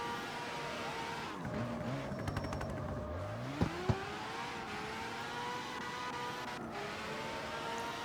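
Han's Tokyo Drift RX-7 engine revs and whines through a drift in the CarX Street racing game, pitch sweeping down and back up as the car slides, steady and moderately loud with a couple of brief clicks.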